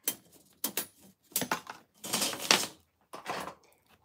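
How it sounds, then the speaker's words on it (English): Scissors cutting ribbon for a mason jar door hanger craft. Several short, crisp snips close up, in separate bursts with quiet gaps between them. "I'm going to see if these scissors will... cut it."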